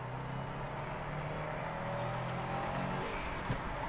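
A 2021 Subaru WRX STI engine drones as the car drives, a steady low hum with road and tyre noise that rises slightly midway, heard from inside the cabin, with no talking.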